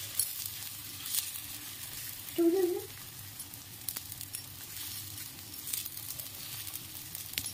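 Mustard oil fries on a hot tawa griddle over a gas stove while pitha is cooked, giving a faint, steady sizzle with a brief louder crackle partway through.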